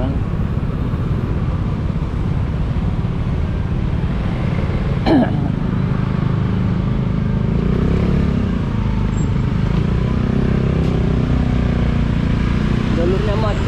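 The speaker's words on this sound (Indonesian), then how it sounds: "Ini jalur-jalur yang crowded, macet." Congested traffic crawling along a road in Canggu, Bali, gives a loud, steady rumble of car and motorbike engines close by, with a brief horn-like rising tone midway and a voice occasionally murmuring over the din.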